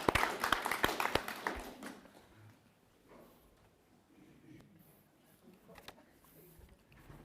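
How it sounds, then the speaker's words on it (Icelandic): Scattered, fairly close handclaps from a small audience at a parents' meeting in Grafarvogur, Iceland burst for about a second and a half, then thin out and fade into quiet room noise with a few stray claps. "Klappa fyrir manni."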